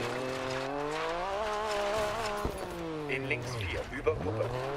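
A rally car in the racing game DiRT 4 revs hard through its gears with a rising and falling engine whine, then skids and thuds into a wall. The crash comes as short bursts of scraping and impact noise near the end.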